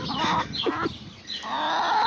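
Two male ducks calling loudly and close by outdoors in spring, with harsh, nasal quacks and squawks running almost continuously over a steady background hiss.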